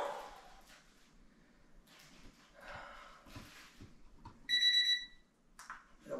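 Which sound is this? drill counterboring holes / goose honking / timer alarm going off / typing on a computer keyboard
timer alarm going off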